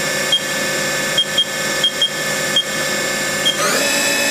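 A Haas TM-1 milling machine spindle runs at a steady high whine. Faint short beeps recur over it, and the pitch shifts near the end as the speed changes. No voices are heard.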